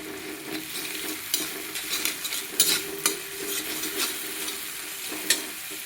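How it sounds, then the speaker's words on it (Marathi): Onion frying with garlic and coriander in a pan, a soft steady sizzle with intermittent scraping and stirring clicks from a utensil, close and fairly quiet, no voices. "खरपूस असा कांदा तळून घेऊया."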